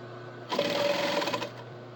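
A sewing machine runs one short, close back stitch burst of about a second of rapid mechanical whirring, set against quiet background hum.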